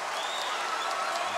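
A basketball arena crowd at a Gonzaga game at St. Mary's applauds steadily through a timeout, a dense sustained wash of clapping and cheering.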